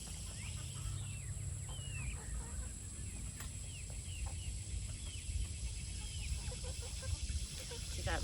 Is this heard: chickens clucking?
yes